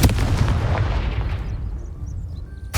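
A Confringo blasting spell goes off in the Hogwarts Legacy video game, one loud close explosive boom that rolls and decays over a couple of seconds, followed by faint tinkling game sounds and a sharp click at the very end.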